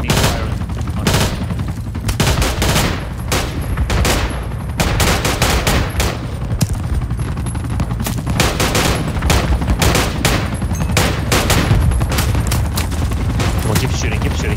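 Sustained rapid gunfire in Battlefield 2 Project Reality, with overlapping rifle and machine-gun bursts firing continuously and loudly throughout, a dense fusillade of sharp repeated shots near and far.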